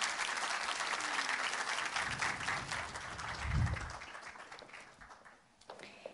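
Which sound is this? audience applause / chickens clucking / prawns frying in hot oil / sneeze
audience applause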